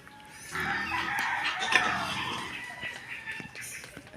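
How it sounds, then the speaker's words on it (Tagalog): A mother hen clucks and calls for feed, a moderately loud, continuous fowl vocalization over faint background noise, with scattered quieter clucks trailing off. "nahingi na naman po ng pakain ng inahin"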